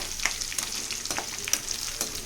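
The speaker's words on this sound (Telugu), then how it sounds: "ఇంకొంచెం వేగాలనుకుంటా." Potato fry sizzles in a pan with a steady bright hiss, punctuated by several crisp scraping stirs at irregular intervals, close and clear with no talk.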